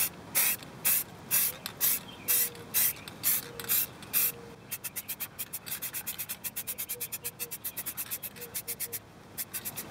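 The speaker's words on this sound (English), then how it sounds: "Now we're going to spray this side" Aerosol paint sprayed onto a car brake caliper in short hissing bursts, then a faster series of quick pulses, close and bright with no talking.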